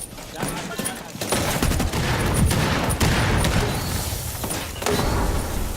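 Sustained gunfire in Rainbow Six Siege, with dense rattling bursts and sharp individual cracks over roughly six seconds, close and loud, with voices faintly mixed in.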